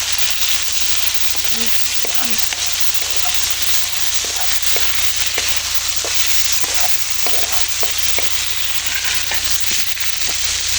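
Fried galunggong fish sizzling loudly in a pan, a dense continuous crackle and hiss with scattered pops, close and steady throughout.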